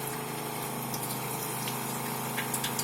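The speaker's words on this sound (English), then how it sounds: "So here we are with the trickle on the faucet, and the pump is not cycling. It's bypassing." A Lippert Flow Max variable-flow RV water pump runs steadily in bypass mode without cycling on and off, a continuous hum beneath a faucet left trickling; no voices are present.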